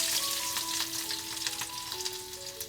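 Garlic sizzles in hot oil in a kadhai for a tempering, a steady close crackle and hiss with faint tonal hum behind it, no voices.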